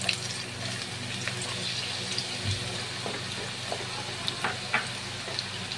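Sliced onions sizzle and fry in hot white oil with cinnamon in a wok for Mughlai chicken, a steady close hiss with occasional crackles and stirring clinks.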